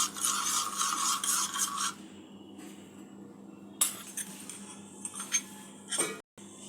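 A spoon stirs and mixes a summer sherbet drink in a glass, giving scraping, rasping bursts in the first two seconds and again after a pause, with no talk.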